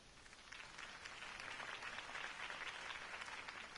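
A crowd claps steadily in a Batman video game cutscene on PS4, a dense, distant-sounding patter of applause that holds at an even level throughout.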